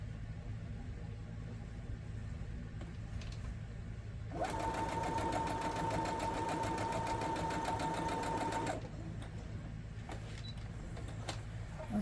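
Sewing machine stitching a quilted pillow top, a fast steady whirring run of about four seconds that starts and stops abruptly over low background rumble, close by, with no talk.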